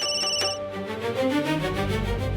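A telephone rings indoors in a household, with a steady electronic ringtone of rapid repeating pulses and a tonal chime pattern, loud and continuous with no talk over it.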